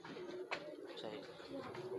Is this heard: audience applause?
no